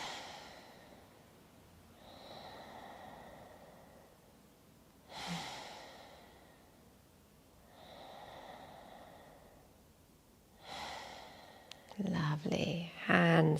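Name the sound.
three deep breaths during yoga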